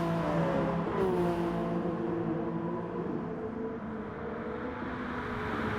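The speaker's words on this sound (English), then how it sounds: "Love the sound of these GR1 cars." Engines of GR1 race cars in the Gran Turismo Sport video game, a steady layered drone of several cars racing on track, loud and continuous throughout, with no talking.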